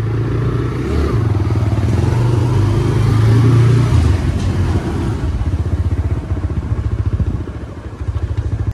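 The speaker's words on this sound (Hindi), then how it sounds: "हम अपनी बाइक से जा रहे हैं" A motorcycle rides into a madrasa compound, its engine a close, steady, pulsing rumble that swells slightly and then carries on evenly with no talking.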